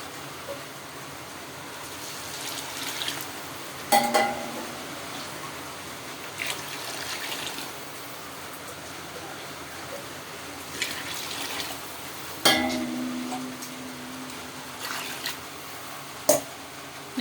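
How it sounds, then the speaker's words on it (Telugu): Water pours and trickles into a pot of cooked chicken with added rice, a soft continuous wash with a few splashy bursts and clunks, fairly quiet and close, with no speech. "వాటర్ పోస్తున్నాను ఫ్రెండ్స్"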